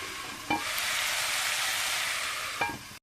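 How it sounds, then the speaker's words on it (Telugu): Bitter gourd (karela) fry cooking in a hot pan makes a continuous sizzle and crackle, with two short stirring scrapes, one early and one near the end; no voices. "కాకరకాయ ఫ్రై ఎంతవరకు ఉడికిందో చూద్దాం చాలా పొగలు వస్తున్నాయి ఉడుకుతుంది"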